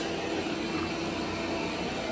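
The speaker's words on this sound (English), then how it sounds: "the vacuum running, that's why it's loud" A vacuum cleaner runs loudly and steadily up close, a constant broad roar with a faint whine and no change in pitch.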